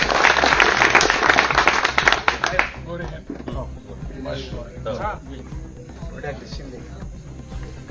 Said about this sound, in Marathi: आपण सर्वांनी टाळ्या वाजवून साथ द्या.